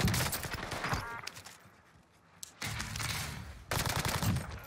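Rapid gunfire from a Kar98 loadout in Call of Duty Warzone on Rebirth Island, with dense volleys of shots in bursts, a quieter lull in the middle, then loud firing resuming.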